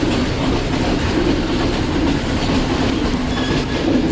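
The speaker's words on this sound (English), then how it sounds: "So there you can see the train up there" The Ella train in Sri Lanka rolls past with a loud, steady rumble and faint clickety-clack of wheels on rails, continuous throughout with no voices.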